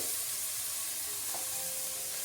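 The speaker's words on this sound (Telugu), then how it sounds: "పన్నీర్ ముక్కలు వేసేస్తున్నాను" Paneer pieces go into a hot pan and set off a soft, continuous hiss of sizzling oil that stays quiet and even throughout.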